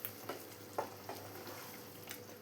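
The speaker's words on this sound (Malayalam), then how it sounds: "എല്ലാം കൂടെ ഒന്ന് മിക്സ് ചെയ്തെടുക്കാം." Peas and potato masala curry being stirred in a pan with sautéed onions, a soft sizzle under a few quiet scrapes of the spoon, close and gentle, no talking.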